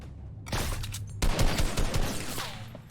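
Bursts of rapid gunfire from a shooter video game, two loud volleys cracking out in quick succession with a brief lull between them.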